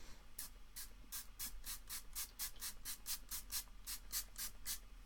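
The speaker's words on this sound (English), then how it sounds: "That was a lot of spray." Quick bursts of aerosol spray fired in a steady rhythm, about sixteen short hisses over five seconds, close and fairly quiet with no talking.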